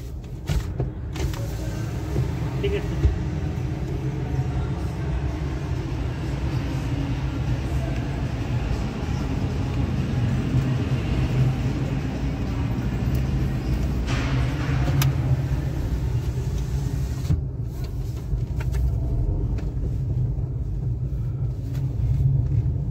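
A car rolls slowly through a multi-level parking garage with three levels, its engine and tyres giving a continuous low rumble that echoes off concrete, with faint creaks and brief higher noises.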